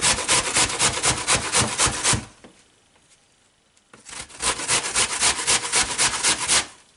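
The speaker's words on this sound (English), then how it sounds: "Do it real simple, just grate to the core." An apple is grated down to the core in two bursts of rapid rhythmic rasping strokes, close and loud, separated by a short quiet pause.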